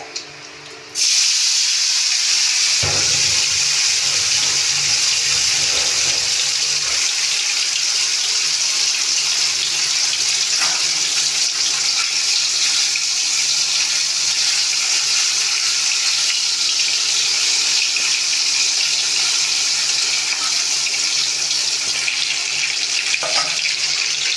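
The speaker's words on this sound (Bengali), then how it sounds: "পরের মাছগুলো ভাজি এইভাবেই একরকমভাবেই সব মাছগুলো ভেজে নিতে হবে" Pieces of katla fish frying in hot oil, a loud steady sizzling hiss that starts abruptly and continues unbroken, with faint utensil clinks and no talking.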